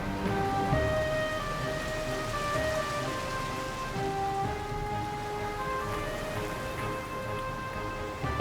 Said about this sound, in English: The rain covered the whole earth.